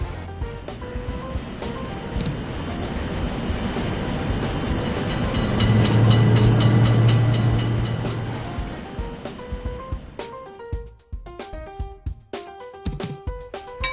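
A video-game train rumbles through a road railway crossing, swelling loud in the middle and then easing off, with bell-like chimes ringing near the end.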